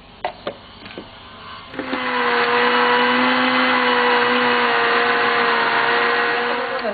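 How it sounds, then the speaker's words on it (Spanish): A kitchen blender purees half an onion with a garlic clove and salt for noodle soup, starting after a few sharp clicks and then whirring loudly and steadily at close range with a constant motor hum. "y la licuamos."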